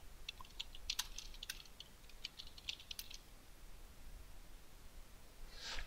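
Text being typed on a computer keyboard, with bursts of quick, light key clicks in an uneven rhythm at first, then thinning out over a quiet background.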